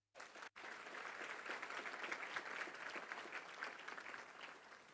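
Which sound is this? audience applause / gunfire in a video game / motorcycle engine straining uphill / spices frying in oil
audience applause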